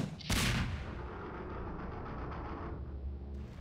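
A loud, close gunshot booms in a modded video game as lit targets are shot, its blast rolling into a long rumbling tail of echo.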